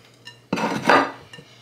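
A spoon scraping and clinking in a bowl while baker's chocolate is mixed into brownie batter, a short burst of close stirring.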